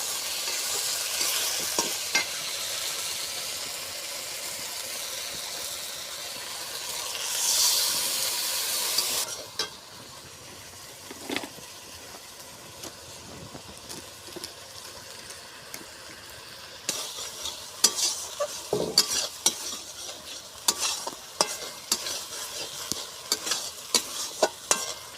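Ground peanut paste frying and being stirred in a pan, a steady loud sizzle for the first nine seconds that then drops to a softer fry broken by repeated scraping strokes and clinks, with no one speaking.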